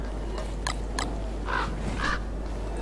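A crow caws in the survival video game Don't Starve: two quick bursts of calls followed by two longer, louder caws over a steady background hum.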